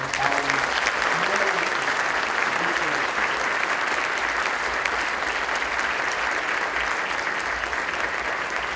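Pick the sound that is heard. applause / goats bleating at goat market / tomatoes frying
applause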